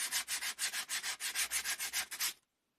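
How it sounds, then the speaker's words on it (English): Rhythmic rubbing strokes sanding down filler on a Porsche Boxster leather roll bar trim, about sixteen quick even back-and-forth scrapes, close and fairly quiet, stopping abruptly into silence. "now I've rubbed it down, it's really difficult to assess whether it needs more filler"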